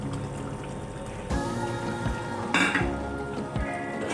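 Tomatoes go into a pan of turnip and meat curry (shaljam gosht), giving soft clatters, stirring and a brief sizzle against a steady frying hiss.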